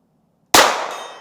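A bullet from a G44 rifle strikes a steel target, giving one sharp, bright metallic clang after a moment of silence, then a ringing tail that fades over the next second.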